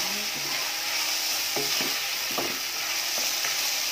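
Ground chicken breast being stirred and sautéed in a pan, with a steady sizzle of frying and repeated scraping strokes of the stirring utensil at close range, no talking.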